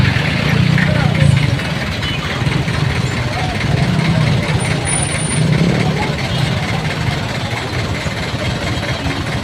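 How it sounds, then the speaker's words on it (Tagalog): Heavy street traffic on EDSA near the MRT station, with trucks and buses idling, rumbling and hissing air brakes in a dense, continuous roar while someone talks over it. "Medyo traffic."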